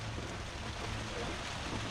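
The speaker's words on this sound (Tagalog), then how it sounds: "Ang ulan." Steady rain falls outdoors as a dense, constant hiss with no clear breaks, while jam simmers nearby.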